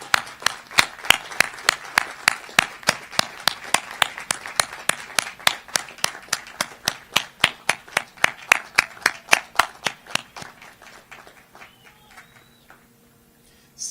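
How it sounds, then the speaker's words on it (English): Audience clapping at a commencement ceremony as family and friends stand to be recognized, a steady run of crisp, rhythmic claps that thins out and fades near the end. "let's give them and those who are watching online a round of applause"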